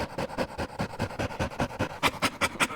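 A dog named Wishbone pants hard and fast, about a dozen quick, rhythmic breaths that sound close to the listener, with no talk over them.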